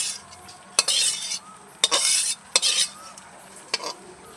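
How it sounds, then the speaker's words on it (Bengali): A spice mix is stirred into khichuri in a pot, with a ladle knocking sharply against the rim four times between bursts of wet scraping and soft sizzling, close and fairly loud. "এইবার খিচুড়ির সাথে মশলাটা ভালো করে মিশিয়ে নিচ্ছি, সুন্দর করে নেড়ে চেড়ে"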